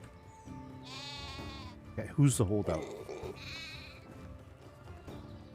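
Goats and sheep bleat in the medieval farming game Medieval Dynasty, several nasal calls rising over a soft ambient bed while a person talks briefly over them.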